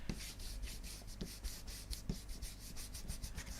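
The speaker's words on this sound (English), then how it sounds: "this is where I get my ink blending brushes, so starting with broken china and just start rubbing that through." An ink blending brush rubs broken china ink onto metallic plated paper in steady up-and-down strokes, making a soft, even, rhythmic scrubbing that is close, quiet and alone.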